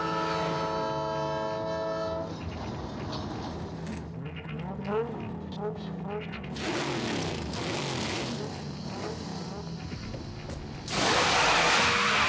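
A train rolls past on a movie stunt set, its horn blaring in a long sustained chord before giving way to rumbling wheels and car clatter, loud and close, with voices talking over it.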